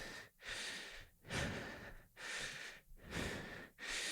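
Steady, heavy breathing during a slide board workout's cool-down stretch, about four close, audible breath cycles in four seconds, each a broad airy rush with short pauses between.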